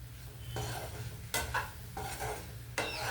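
Colocasia (taro) fry with sesame-chili powder cooking in a pan: quiet background sizzling broken by a few distinct scraping stirs of a spoon against the pan, with no talk.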